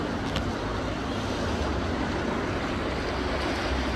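Strong river current rushing under a bridge near Flatts Village, a steady, dense wash of moving water that holds constant and close throughout, with no voices.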